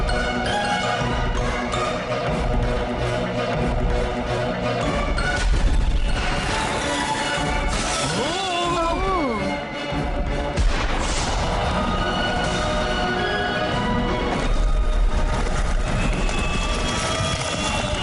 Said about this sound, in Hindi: अब आतिशबाजी का शानदार कार्यक्रम देखो।